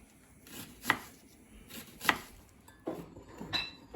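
A large onion sliced into half rings on a cutting board, the knife striking in a few separate, moderately close chops with short pauses between them, no voices.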